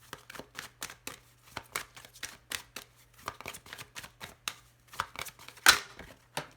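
A deck of Petit Lenormand cards is shuffled by hand in a steady run of crisp riffling slaps, close and clear against a quiet room, ending with a sharper flutter near the end.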